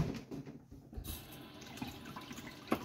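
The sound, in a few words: water running from a tap, rinsing a yellow pineapple tomato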